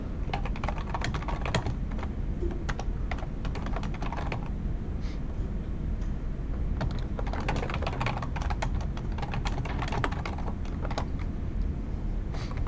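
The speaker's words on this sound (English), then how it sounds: "you're going to see me play for just a moment while I verify that I'm typing it correctly" Keys clatter on a computer keyboard in quick irregular bursts with short pauses, close and fairly quiet, with no talking.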